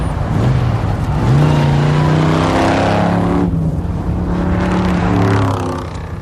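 An old Chevy's exhaust roars steadily up close, a loud, rich engine drone with shifting pitch as it revs, carrying on without a break for several seconds.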